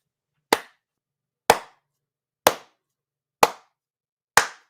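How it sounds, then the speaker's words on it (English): Five slow, evenly spaced hand claps, about one per second, each a sharp crisp slap standing alone in silence, in a deliberately sarcastic slow-clap rhythm. "Like the slow clap."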